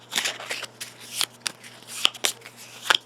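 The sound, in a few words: shuffling a deck of Gloomhaven monster cards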